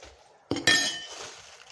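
A spoon or ladle clinks against a metal cooking vessel as traditional rice varieties are measured out, two quick bright knocks close together followed by a short ringing decay.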